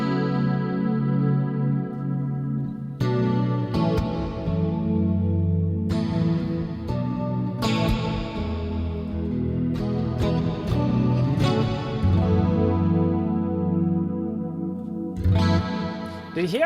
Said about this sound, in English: I'm guessing more pushed to the limit sort of reverb setting